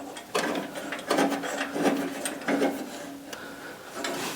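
Bolts being turned by hand onto the chute of an Ariens snow blower, a few soft, irregular metallic clicks and scrapes close by, quiet and with no talk.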